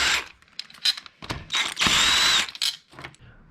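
Ratchet undoing two 12mm bolts on a fuel rail of a supercharged Acura RSX, rapid close clicking bursts in several uneven runs with brief pauses between.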